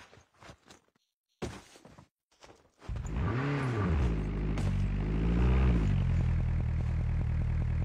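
A propeller aircraft in the Call of Duty Mobile game drones in after a few short game effects, its engine hum swelling and wavering in pitch as it passes, then holding loud and steady to the end.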